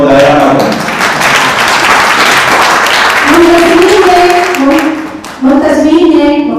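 Audience applause at a literary evening honoring Aneeq Ahmad, steady loud clapping from a crowd throughout, with voices speaking over it in the second half.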